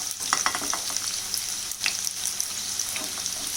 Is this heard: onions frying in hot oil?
yes